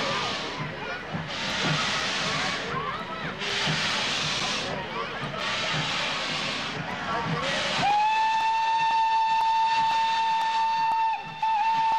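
A Canadian-built steam locomotive of Pakistan Railways runs with rhythmic heavy chuffing and hissing bursts, then a long, loud, steady steam whistle sounds close by.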